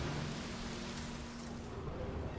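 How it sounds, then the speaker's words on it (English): Steady rainfall in the open world of The Witcher 3: Wild Hunt, a continuous broadband hiss holding even throughout with a faint low hum beneath, no voices. "Looks like rain."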